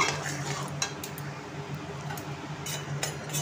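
A spoon stirs food in a pan with soft, repeated scraping and clinking, close and fairly quiet, with no talk.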